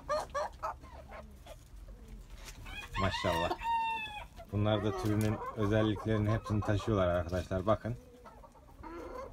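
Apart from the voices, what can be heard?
bantam Cochin chickens and roosters clucking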